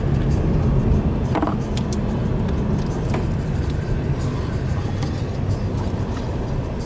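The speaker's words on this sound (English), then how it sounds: "We're driving through the neighborhood." Car driving through a snowy neighborhood in Charlotte, a steady low interior road rumble with faint clicks, continuous and close.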